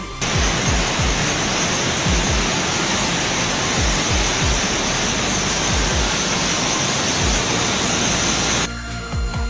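The large Khone Phapheng waterfall in Champasak, southern Laos, roars in a dense, unbroken rush of water that fills the whole scene and stays loud and constant throughout.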